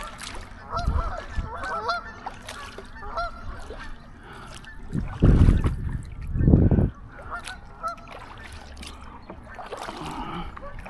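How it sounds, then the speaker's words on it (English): Geese honk on the water near an Old Town 119 Solo Sportsman kayak, two loud bursts of honking standing out above faint background noise and splashing from the paddling, no speech. "Hey geese, I'm coming for you."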